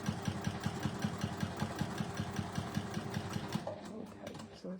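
A sewing machine stitches fabric in a fast, even run of mechanical clicks with a steady motor hum, close and clear, then stops near the end.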